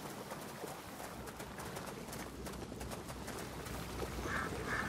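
Ducks in the video game A Plague Tale: Innocence give a few faint quacks near the end over a constant hissing outdoor ambience.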